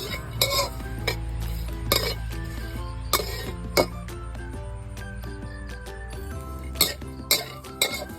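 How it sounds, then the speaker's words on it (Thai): Dried shrimp dry-roasting in a pan for Thai kaeng liang curry paste, with a steady low sizzle under repeated sharp clinks and scrapes of a utensil against the pan. "คั่วกุ้งแห้งให้หอมนะคะ"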